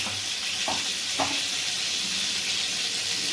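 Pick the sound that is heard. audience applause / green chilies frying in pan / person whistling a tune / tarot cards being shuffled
green chilies frying in pan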